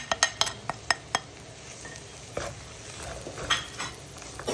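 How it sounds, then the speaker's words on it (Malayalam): Spice powders for a Kerala-style crab roast are stirred in a pan: several sharp metallic clinks and scrapes of a utensil against the pan up front, then softer scraping over a faint sizzle. "എന്നിട്ട് നല്ലോണം ഇളക്കി കൊടുക്കുക."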